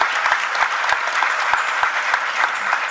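Another round of steady, loud applause from a crowd at a university job fair opening, continuous clapping with no voices rising above it.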